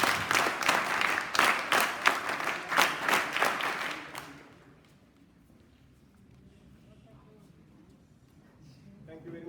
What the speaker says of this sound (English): Hands up, clap, go!